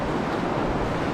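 River rapids on the Youghiogheny River at V-Rock near Cucumber Falls give a steady, dense rushing roar of whitewater that stays loud and unbroken throughout.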